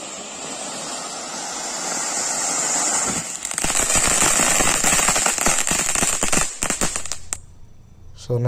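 An anar fountain firecracker combined with chitput is fired outdoors. A steady roaring hiss of sparks builds, then a dense run of sharp crackling pops takes over before the burst tapers off. No voices.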